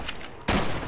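Gunfire from the Fallout: New Vegas video game as the player takes shots at sentry bots in a facility, with a few quick light pops followed by one sharper, louder burst that tails off into a steady rumble.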